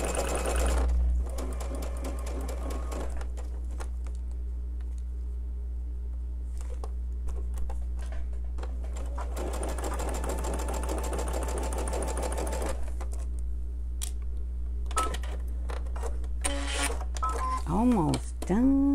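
A sewing machine stitches a quilt block seam in fast rattling bursts, several stop-start runs with pauses between them, up close over a low steady hum, while a person talks at times.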